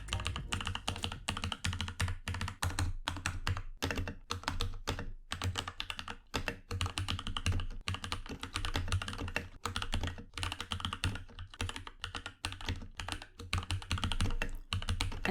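Keychron K8 mechanical keyboard in stock form, before a foam mod, typed on steadily and quickly: dense, continuous clacky keystrokes up close with brief pauses, no voices.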